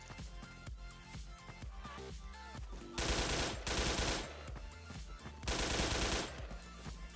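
Rapid automatic gunfire in the online shooter game Wolfteam, with several dense bursts rattling over continuous background game noise, the loudest volleys landing around the middle and late part of the clip.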